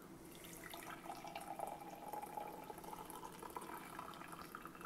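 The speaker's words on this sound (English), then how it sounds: "I'm going to pour it into the cups here." Freshly brewed coffee pours steadily into cups, a continuous close trickle and splash of liquid that holds for several seconds with no talking.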